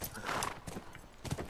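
Quick clip-clop of hooves at a gallop in The Last of Us, fairly close and brief, with faint game-like background noise.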